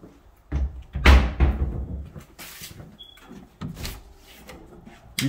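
A built-in drawer system in a Solitaire Homes manufactured home being opened and closed, giving a few close wooden slides and thumps with a sharp bang near the start, with quieter rattles and knocks following.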